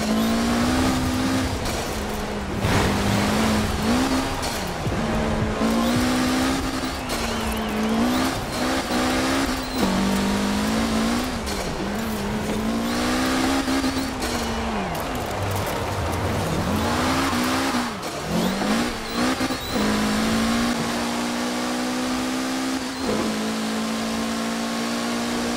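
A Mitsubishi Evo races in the video game Forza Horizon 4, its engine loud and close throughout, revving up and down through repeated gear changes with brief tire squeals.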